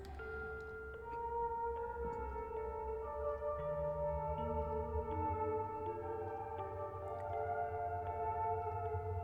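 A slow piano melody in the video game Fatal Frame: Mask of the Lunar Eclipse steps through sustained, held notes, rising and shifting pitch over a low steady rumble, with no voices.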